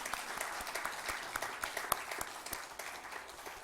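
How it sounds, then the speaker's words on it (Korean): A church congregation applauds during a Sunday morning service, a sustained patter of many hands at moderate distance with a few sharper claps standing out, continuing steadily for a few seconds. "스스로에게 감사의 박수 해주세요."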